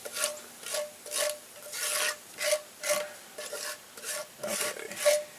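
An ingredient is stirred into oil in a Dutch oven, heard as a rhythmic series of close scraping, rasping strokes about twice a second, with a faint sizzle beneath.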